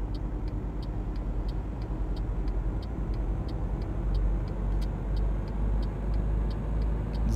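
Scania truck engine in Euro Truck Simulator 2, driving in Switzerland: a constant low droning rumble with a steady rhythmic ticking on top, loud and continuous throughout.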